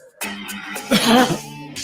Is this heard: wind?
no